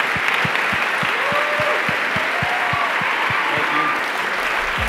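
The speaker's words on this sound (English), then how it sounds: "Let's have a round of applause for Jeff Bezos." Steady applause from the audience at a charity gala after an onstage appearance by Jeff Bezos, dense and continuous, with a regular low thumping underneath.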